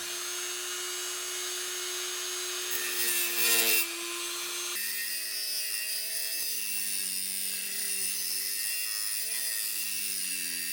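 A file rasps notches into the collar of a knob on a 1934 Grunow 501 antique tube radio, a continuous scraping drone with a brief harsher burst partway through, close and steady with no talking.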